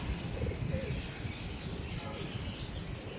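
Pigeons coo softly and continuously, with a low, steady murmur running through the whole stretch. No voices are present and the texture stays even, without distinct individual calls.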